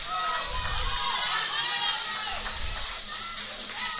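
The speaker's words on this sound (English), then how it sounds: "people getting on their feet, clapping and cheering for Wanda" A powerlifting crowd at the world masters championships claps and cheers for a hometown lifter, a dense, steady roar of applause and shouts with commentators talking over it.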